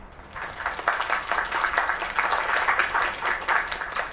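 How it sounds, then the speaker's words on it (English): Steady applause from a crowd in the video game Lake, clapping evenly for a few seconds at moderate volume with no voices over it. "Another round of applause."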